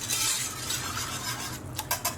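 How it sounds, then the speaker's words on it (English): A corn flour mixture is whisked in a bowl, giving a soft continuous swishing stir followed by a few light clinks of the whisk against the bowl, quiet and close with no talking. "Now let's just give that a whisk."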